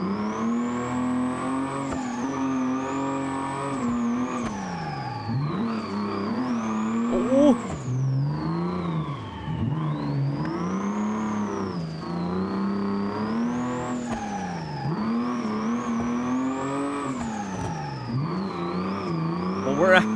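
A car engine in the BeamNG driving game, used in multiplayer tandem drifting, revving hard and continuously, pitch sweeping up and down in repeated waves as the throttle rises and falls, loud and close with no talk.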